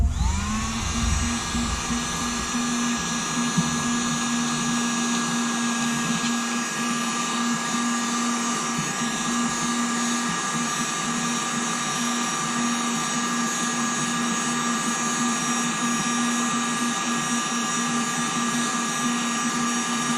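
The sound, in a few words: heat gun blowing hot air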